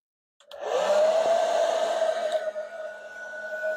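A 1500-watt hair dryer switches on at high fan and high heat, rising abruptly out of silence into a loud, steady whining whoosh that holds close for several seconds.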